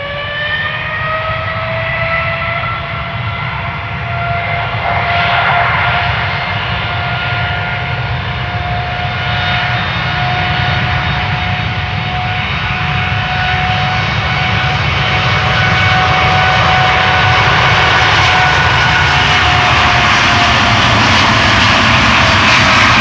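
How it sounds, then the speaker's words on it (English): A TUI Boeing 787-8 Dreamliner, Dutch registered, lined up on the Polderbaan at Amsterdam Schiphol, holds a loud, steady engine whine with stacked rising tones over a deep rumble, gradually building in strength, with no voices. "another Dreamliner lined up over here at the Polderbaan, going to Curaçao"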